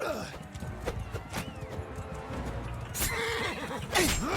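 A horse neighs in Mount & Blade 2: Bannerlord during a tournament fight, a loud whinny rising near the end over a busy bed of hoofbeats, clashing and crowd noise.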